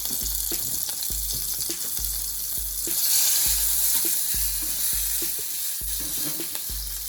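Oil sizzles and flares in a pan over a flame with a loud, crackling hiss that swells briefly midway, plus a regular rhythm of low thumps underneath.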